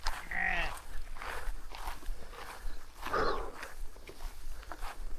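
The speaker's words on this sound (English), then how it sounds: "Look at the sheep coming across by me." Sheep crossing a dike path nearby, with a bleat near the start and another a few seconds later, over soft shuffling footsteps and outdoor wind noise.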